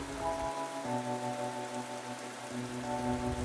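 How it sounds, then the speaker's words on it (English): Steady rain falls in a continuous hiss, moderately loud and unbroken, with faint steady tones running alongside it. "Soon it began raining, and the rain made it even more difficult to see."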